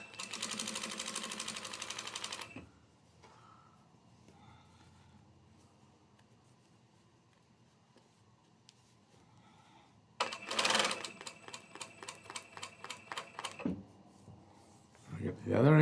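Top-stitching a collar, a sewing machine buzzes in two close, fast bursts separated by a quiet stretch of faint handling, with a voice talking around the stitching.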